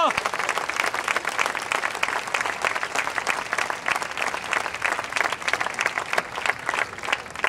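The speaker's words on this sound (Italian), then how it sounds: "quindi un applauso forte" An audience at a film festival applauds loudly and steadily, a dense, continuous wash of many hands clapping that lasts throughout without letting up.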